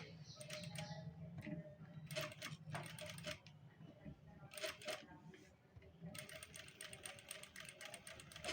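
A sewing machine stitches along the edge of a patchwork blouse in quick bursts of rapid needle chatter separated by short pauses, with a voice speaking faintly in the background.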